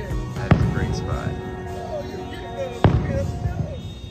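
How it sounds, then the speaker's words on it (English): Distant Disneyland fireworks pop in two sharp bursts about two seconds apart, heard from a nearby Anaheim hotel, with voices and crowd chatter continuing underneath. "you can actually see the fireworks from Disneyland"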